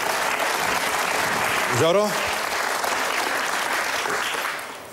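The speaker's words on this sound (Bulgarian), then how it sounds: "Първо да го наградим с аплодисменти, че е наш гост." Studio audience applause on a television quiz show welcoming a contestant, continuous clapping that tapers off near the end, with a brief spoken word over it.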